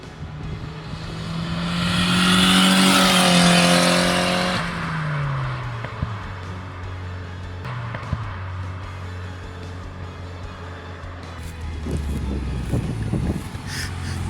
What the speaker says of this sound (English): Dude, this thing shoots fireballs out the back.